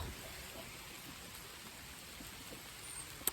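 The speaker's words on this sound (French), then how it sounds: "Il pleut un peu." Light rain falling outdoors at a horse riding session, a faint, even patter with a single small knock near the end and no talk.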